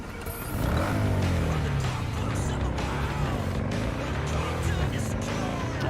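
Archer car from Cyberpunk 2077 driving through city traffic, a steady engine drone with shifting pitch, brief tire squeals and passing vehicles, continuous and fairly loud, with voices faintly underneath.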